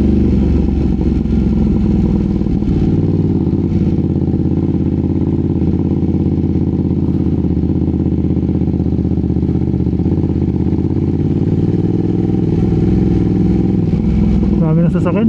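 A 2025 Ducati Panigale V2 motorcycle rides steadily, its engine droning loud and continuous with wind and road noise close to the rider, rising slightly near the end.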